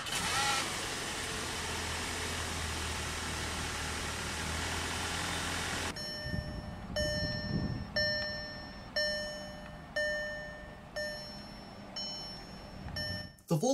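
A 2018 Volkswagen Beetle S Convertible with key ignition gives a steady, broad engine-like rush for about six seconds. A series of evenly spaced electronic warning chimes follows over a faint low hum.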